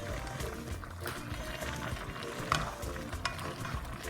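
Smoked fish and meat cook in a pot for an Igbo vegetable soup, with a steady sizzle and scraping stirring sounds running close and continuous throughout.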